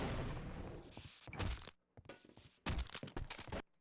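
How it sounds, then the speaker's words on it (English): Grenade thrown at an enemy in a video game, with two loud bursts of crackling blasts and heavy thuds separated by a short near-silent gap, plus scattered lighter cracks between them. "Gonna scare him with my grenade"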